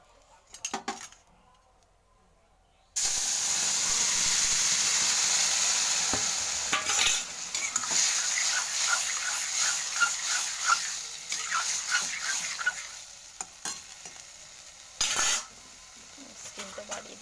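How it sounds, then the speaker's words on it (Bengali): Spices crackle and sizzle in hot oil for a Bengali tempering before a bottle gourd and mixed fish curry, with loud frying and scraping utensils in the middle, preceded and followed by quieter kitchen clatter. "দেখো ফোড়ন হয়ে গেছে"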